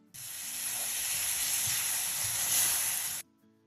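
Chicken frying with onions in a pan gives a steady, loud, close hiss of sizzling that runs for about three seconds and then cuts off sharply.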